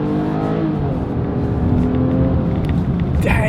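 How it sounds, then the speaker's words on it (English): A 2026 Nissan Pathfinder's naturally aspirated V6 pulls hard while accelerating onto a highway, its steady loud drone climbing in pitch with no voices present. "I love a naturally aspirated engine, especially a naturally aspirated V6"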